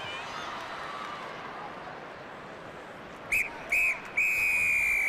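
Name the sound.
referee's half-time whistle at rugby match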